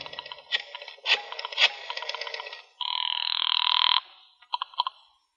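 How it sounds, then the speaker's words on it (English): A telephone call from a phone booth outside a tobacco store brings clicking dial-like pulses, then a steady electric ring tone for about a second, followed by two short ring bursts, all crisp and close. "I found a phone booth outside a tobacco store, and while Sandra caught her breath, I made a phone call"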